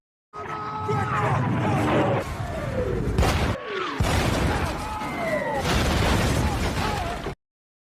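Loud booming explosions from German artillery shelling, with bursts and falling whistles overlapping across several seconds, dense and continuous, in the war film Fury.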